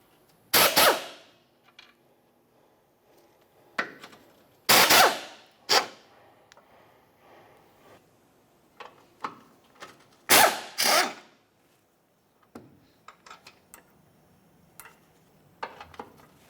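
Power tool bursts loosening 13mm bracket bolts on a 2001-2005 Ford Explorer Sport Trac, several short loud whirring runs spaced apart with quieter clicks and handling noises in between, no talking.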